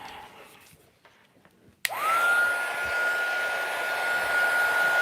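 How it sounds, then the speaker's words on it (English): A heat gun switches on with a sudden burst and then blows hot air in a steady, loud, even rush with a rising whine, used on a shabby vintage paper tag craft project. "then we'll heat this up. Grab a heat gun."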